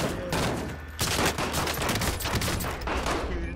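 Rapid gunfire from a shotgun in Call of Duty Modern Warfare, with dense overlapping blasts in a loud, continuous fusillade during an intense firefight.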